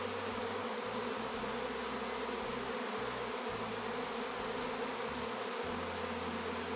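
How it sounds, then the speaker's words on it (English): A swarm of thousands of honey bees hums loudly through the air, a dense unbroken drone that fills the whole stretch, with no voices. "we are surrounded by thousands and thousands of bees now in the air. Can you hear how loud they are?"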